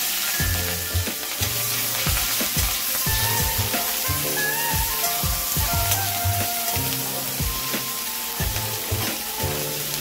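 Onion paste frying in hot mustard oil with nigella seeds for an okra masala curry, hissing and sizzling steadily while a spoon stirs it in a regular rhythm.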